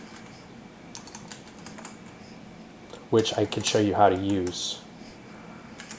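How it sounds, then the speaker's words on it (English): Computer keyboard typing in a short quick burst of clicks partway through, with a person talking over a quiet background. "Man, my typing."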